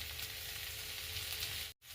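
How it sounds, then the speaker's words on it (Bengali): Soft, steady sizzling of spices frying in a pan over medium-to-low flame, continuous and fairly quiet, with a brief dropout near the end. "মিডিয়াম টু লো ফ্লেমে আর একটু ভাজার জন্য বসিয়ে রেখে দিলাম"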